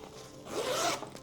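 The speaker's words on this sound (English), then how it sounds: "So I opened the zippers all the way, and then it opens like this." A zipper on a Tomtoc Navigator T66 travel backpack is drawn open in one smooth, close pull lasting about a second, quiet with no talking.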